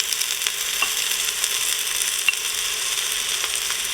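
Whole spices frying in oil in an Instant Pot: mixed peppercorns, curry leaves, cloves, black and green cardamom. Made of a steady, close, bright sizzle with a few soft clicks of stirring, no voices.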